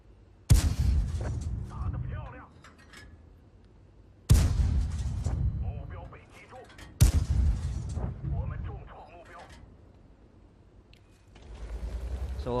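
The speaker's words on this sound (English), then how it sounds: "forgive me for firing a few APCR rounds here" Heavy tank cannon shots in World of Tanks, fired as APCR rounds: three loud, sharp booms spaced several seconds apart, each followed by a rumbling decay and mechanical clatter, with talk running underneath.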